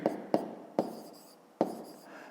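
Pen writing on paper in a math exercise, several short scratchy strokes with distinct taps at the start of each, close and fairly quiet.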